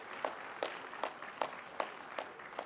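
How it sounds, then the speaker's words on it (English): A conference audience applauds in a steady rhythm of about seven evenly spaced claps, fairly faint and reverberant as if from a distance in a large hall. "The sound of claps should not diminish."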